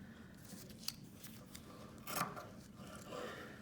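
Scissors cut through a T-shirt being customized. A few faint, close snips and crisp fabric rubs come in quick succession at low volume, and there is no talk.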